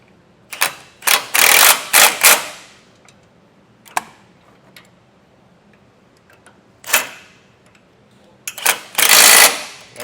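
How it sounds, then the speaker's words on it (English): A power tool or ratchet tightening base plate mounting bolts on a 2024 GMC Canyon, heard as loud, close bursts of rapid mechanical rattling separated by quiet pauses. "Now I'll go through and tighten the rest of the hardware down."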